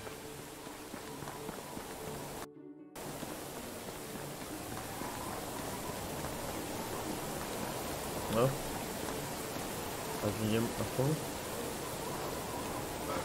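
Rain falls in the video game Medieval Dynasty, a steady hiss of pouring rain running throughout, with a brief dropout and a few thumping footsteps, while someone speaks briefly over it.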